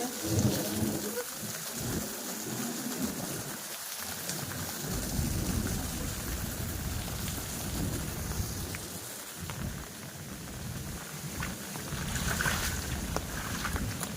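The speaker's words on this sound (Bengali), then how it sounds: "দেখুন বন্ধুরা, ছাদের জল কিভাবে পড়ছে।" Rainwater pours steadily off a rooftop during heavy rain, a loud, continuous rushing wash of water that stays constant throughout with no voices.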